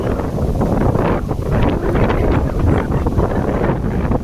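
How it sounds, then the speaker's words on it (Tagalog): Strong typhoon wind buffeting the microphone on a coastal walk, a loud continuous rumbling roar with gusty surges throughout and no voices. "Ooh, typhoon ah. Wow. Very windy."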